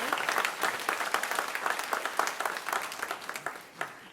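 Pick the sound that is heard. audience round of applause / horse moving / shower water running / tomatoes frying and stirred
audience round of applause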